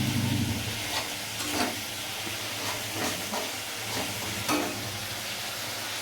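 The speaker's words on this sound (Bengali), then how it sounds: "টমেটোটা কষা হোক, তারপর দেখে নিচ্ছি ব্যাপারটা কত কী হয়।" Tomatoes sautéing in a pan for potato curry, giving a steady close hiss and sizzle with occasional soft stirring scrapes throughout.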